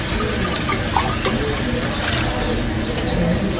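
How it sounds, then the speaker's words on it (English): Water runs steadily from a tap into a cooking pot holding garlic and leftover canned ingredients, a continuous close splashing hiss. "I'm gonna put a little bit of water in here."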